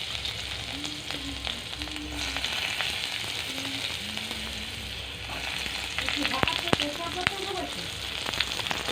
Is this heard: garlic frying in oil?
yes